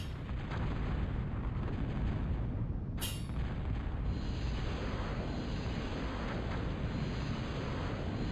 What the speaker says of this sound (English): Just get a constant artillery bombardment from me